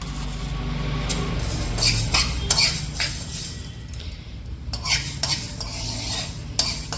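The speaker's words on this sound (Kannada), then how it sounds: "ಸಾಸಿವೆ ಕೂಡ ಸ್ವಲ್ಪ ಚಟಪಟ ಸೌಂಡ್ ಬಂದರೆ ಸಾಕು, ತುಂಬ ಜಾಸ್ತಿ ಇದಾಗಬಾರ್ದು." Mustard seeds crackling in hot oil for mango pickle, with stirring and metal spoon clinks against a pan, a steady sizzle with scattered sharp pops and scrapes, close and without speech.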